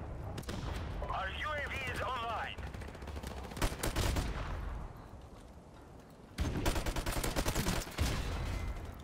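Rapid bursts of MP44 gunfire in a Call of Duty 4 Modern Warfare Remastered team deathmatch, loud automatic volleys with other in-game shots and effects, plus a player talking over the action.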